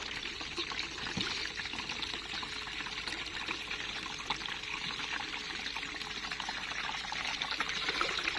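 Fuel poured into the tank of an agricultural spray drone, 8 liters going in as a steady, continuous close pour with trickling, unbroken throughout.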